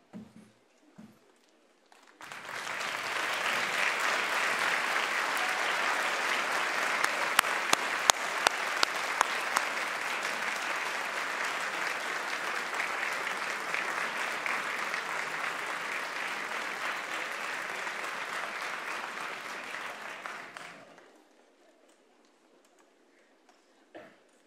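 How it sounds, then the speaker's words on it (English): A graduation ceremony audience breaks into sustained applause with some cheering, a dense, loud wash of clapping that rises after a couple of seconds, holds for nearly twenty seconds and then dies away. "give them a big round of applause and a cheer"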